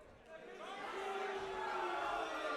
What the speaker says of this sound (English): Why are you booing?